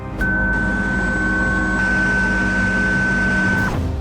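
A metal 3D printer for military parts runs steadily, giving a continuous mechanical drone with sustained tonal whines, loud and close, with no talking.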